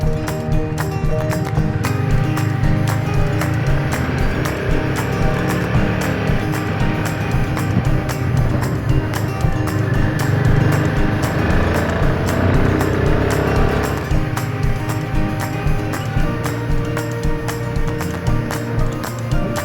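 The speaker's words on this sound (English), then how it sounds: "Man, listen to that wind." Loud, steady wind roar buffets a rider on a motorcycle along a winding road, with the engine drone faintly audible underneath throughout.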